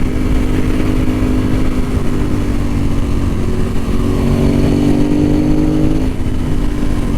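A Ducati 916 sport motorcycle accelerates on the road, a loud, close, continuous engine drone that rises smoothly in pitch through the gear, then eases off near the end, with no talking.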